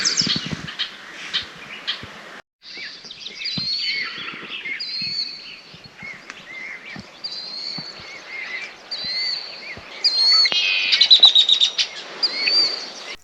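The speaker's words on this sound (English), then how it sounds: "After soaking in the bird sounds this morning" Many birds chirp and tweet in the morning around a car camp on public land, a steady overlapping chorus of bright calls with a few louder, closer bursts toward the end.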